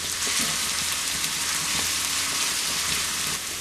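Ginger, garlic and green chilli sautéing in oil in a pan, a steady close hiss and sizzle that runs unbroken throughout with no talking.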